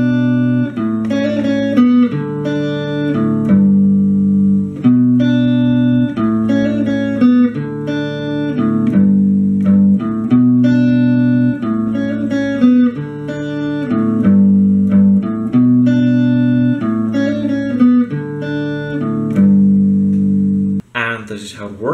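Electric guitar plays the bridge of a song just before the solo, with sustained distorted notes and chord changes in a steady pattern, loud and continuous for about twenty seconds with no talking.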